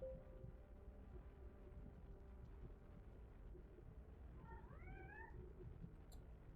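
A pet cat lets out a single short, faint meow partway through, over a constant low background hum.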